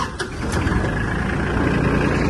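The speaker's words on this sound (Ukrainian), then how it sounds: "Заводиться трактор легко." An Iseki TK-25 Japanese mini tractor's small engine cranks and catches, then settles into a steady, loud running rumble close by, with no talking.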